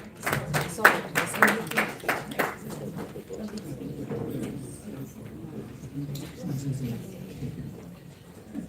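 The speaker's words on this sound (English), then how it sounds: "Let's applaud her as she takes over." Audience applause at a book launch event in the UK, a burst of clapping for several seconds that thins out, mixed with voices talking.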